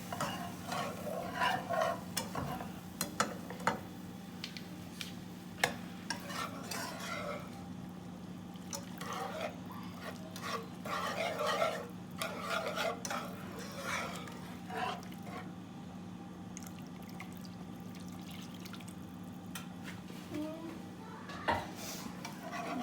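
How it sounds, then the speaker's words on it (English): Whole milk being whisked into a sauce in a pan over medium heat, giving continuous scraping and clinking of the whisk against metal with faint liquid sloshing, steady and close, with no voices. "I'm gonna keep whisking it"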